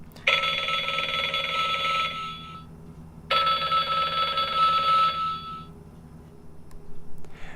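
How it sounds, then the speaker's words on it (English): Oregon Scientific talking countdown timer playing its alarm sound effect: two bursts of electronic telephone-like ringing, each about two seconds long, loud and close, with a short pause between them. "now, of course, it's playing back the sound effect that you selected"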